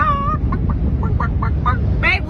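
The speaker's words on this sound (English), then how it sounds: "look at all the chickens" Chickens cluck in a rapid series of short, bright calls over a steady low rumble, close and fairly loud, ending in a longer squawk.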